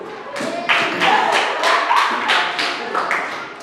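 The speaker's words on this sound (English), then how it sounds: "Clap on the book." Primary school pupils clap on their books in a classroom, a run of about eight loud, evenly spaced slaps on paper, near and distinct.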